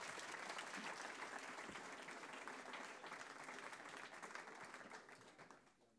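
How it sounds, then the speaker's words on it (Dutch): Audience applause for the final two speakers of an evening program on Amsterdam's water, a dense, steady clapping from a sizeable crowd that holds for about six seconds before thinning out at the end. "Ik wil graag een heel groot applaus voor deze laatste twee sprekers van vanavond."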